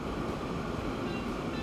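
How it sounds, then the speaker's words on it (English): A freight train rumbles down a mountain in the Transport Fever 2 game, a steady dense roar of wheels and rail noise with no break and no voices. "How did I not see the biggest train on our map come down the mountain?"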